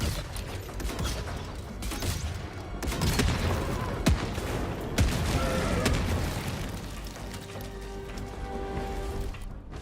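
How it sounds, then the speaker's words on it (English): Mortar shells land in the video game Helldivers as a run of heavy booms and crackling blasts, some overlapping, followed by a quieter mechanical hum as the barrage fades. "Dropping a pin, northwest, 50 meters. And that's why I like me a mortar."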